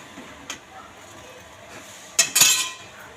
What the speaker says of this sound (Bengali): এবার আমি ভেজে রাখা গোবিন্দভোগ চালটা আমি দুধের সাথে মিশিয়ে দেবো।